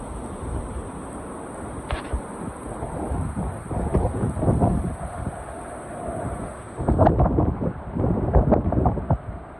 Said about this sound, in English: Again, not a lot of rain, just a lot of blowing rain.